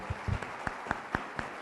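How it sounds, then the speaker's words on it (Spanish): A handful of sparse, separate claps from an audience at the close of a lecture, about six quick hand claps spread out at a steady pace, fairly quiet with no voices. "los ponemos con un gran aplauso"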